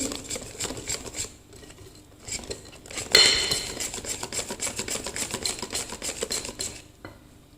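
Caramel butter shortbread dough being mixed in a bowl, with continuous close scraping and clinking of a utensil against the bowl. A sharper clatter comes partway through, then steady stirring continues.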